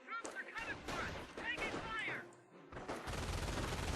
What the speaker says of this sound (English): an MG42, so lovely.